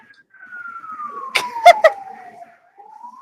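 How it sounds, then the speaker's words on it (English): A faint siren drones steadily in the background, pitch gliding slowly, while a few short bursts of a nearby voice or cough cut in. "There's police sirens. There's like fire trucks."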